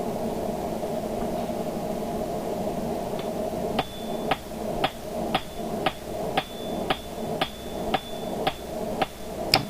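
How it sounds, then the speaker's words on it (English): A 3-pound flat hammer forging a steel dragon door pull on an anvil, with a steady rumble at first and then a regular series of loud, ringing metallic strikes about twice a second. "And I'm using a 3-pound hammer right now."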